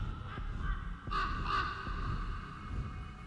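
A few harsh crow caws from the video game Rise of Insanity VR, two close calls standing out near the middle over a faint ambient hum.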